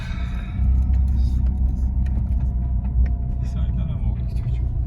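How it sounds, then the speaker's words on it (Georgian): Lifted Mitsubishi Pajero iO driving along, with a steady low engine rumble and road noise heard from inside the cabin, continuous and fairly loud, with faint rattles above it. "მანქანა დადის საკმაოდ რბილად, უხეში არ არის, თან დალიფტულია ეს ავტომობილი და ძრავიც ერევა"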